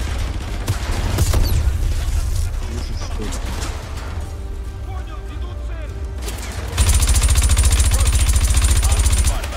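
Dense gunfire in Call of Duty Modern Warfare 2 Remastered, rapid loud bursts and sharp shots that build into a continuous heavy barrage toward the end, with a voice talking over it.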